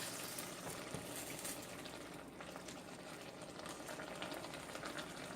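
A cassava mixture simmering in a pot on the stove, a steady quiet bubbling and hissing that holds evenly throughout, with no voices.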